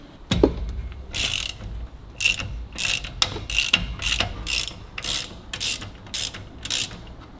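A ratchet loosens the back plate bolts on a 1934 Buick's steering king pin assembly, with roughly a dozen close, loud bursts of rapid clicking separated by short pauses.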